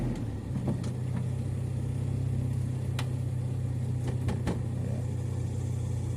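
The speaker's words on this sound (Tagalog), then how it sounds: "Pero rinig mo sa makina na napakataas ng RPM." A Revo 7K engine idles at a steady, very high RPM with a continuous loud drone, a few clicks and knocks from the engine bay over it.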